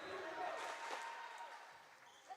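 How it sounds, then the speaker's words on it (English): Crowd of Irish fans cheering at a high school Class 2A regional final volleyball match in a gym, a steady broad roar of voices with a few louder shouts rising and falling throughout. "Irish fans still cheering their team hard"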